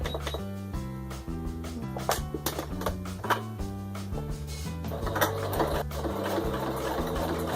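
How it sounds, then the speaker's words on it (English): A sewing machine runs a zigzag stitch on a towel, a close, busy mechanical clatter that shifts in rhythm with brief changes of speed. "I'm going to do a zigzag stitch so that it really gets that on there."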